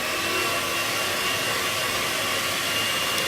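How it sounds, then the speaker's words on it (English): An electric mixer whisks egg yolks and sugar together, producing a loud, steady whirring drone that holds constant throughout without pause. "we put the remainder of the sugar in with the egg yolks. And we now whisk that up."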